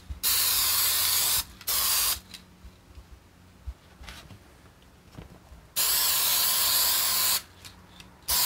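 Several loud hissing bursts of aerosol spray onto upholstery foam, close up, separated by quiet pauses with faint handling clicks.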